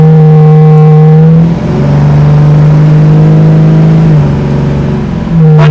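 A 1974 AMC Javelin hot rod with a 3-inch stainless steel exhaust revs loudly and close by, its engine note rising in strong surges with brief dips between pulls, no voices present.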